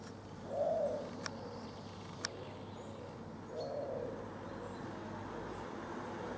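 Pigeons coo outdoors in two soft, low rounded calls a few seconds apart, moderately near over steady background noise with a couple of faint clicks.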